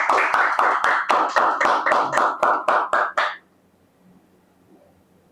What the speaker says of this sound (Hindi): आप सब एक बार अपने खुद के लिए तालियां बजा ली मैं चाहता हूँ